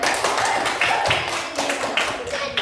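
Fifth-grade classroom applauding, a loose patter of children's clapping and tapping that comes in uneven bursts, fairly close and steady for a couple of seconds.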